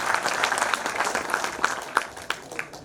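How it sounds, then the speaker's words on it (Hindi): Audience applause at a cultural evening put on by trainee officers, a dense patter of many hands clapping steadily throughout with a few sharper claps standing out, fairly close and moderately loud. "तो आप सब दोस्तों के लिए एक बार जोरदार तालियां"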